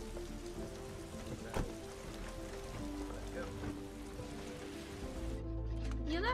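Steady rain falls through a nighttime scene in the TV series Cloak & Dagger, a dense wash of drops under scattered voices, with a sharp knock near the middle and the hiss thinning toward the end.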